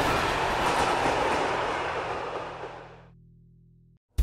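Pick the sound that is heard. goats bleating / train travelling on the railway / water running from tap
train travelling on the railway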